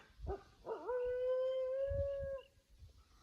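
A trapped feral crossbred dog caught by a hind leg in a catch howls once, a long sustained wavering note rising from short yelps, fairly close in open bush with no talk.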